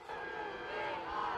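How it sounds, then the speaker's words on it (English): Crowd in the visitor stands at a high school football game, a sustained low roar of many voices, steady and somewhat distant, lasting the whole moment without breaks. "I can hear the boos from the visitor stands from here"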